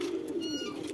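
Pigeons in a breeding pair cooing in a loft, a steady low throaty coo repeating in soft rolling pulses up close, with faint chirps and wing rustles behind.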